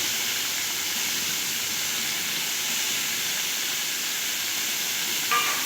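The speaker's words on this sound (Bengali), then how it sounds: "এবার চিংড়িগুলো ভালো করে ভেজে নেব।" Prawns coated in salt and turmeric frying in hot oil, a steady, dense sizzle holding evenly throughout at moderate loudness with no voice over it.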